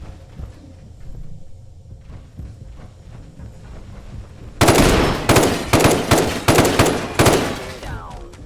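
Bursts of heavy gunfire from a powerful weapon in a post-apocalyptic survival video game, erupting abruptly after a quiet stretch into loud, rapid, repeated volleys that continue to the end.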